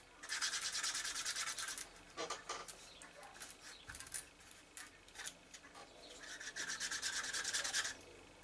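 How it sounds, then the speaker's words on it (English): A wooden edge slicker is rubbed briskly along leather edges to burnish them, giving a dry, rhythmic rasping in close bursts with short pauses between strokes. "So this is a burnishing tool or an edge slicker. A few brisk passes just flattens down all the fibres"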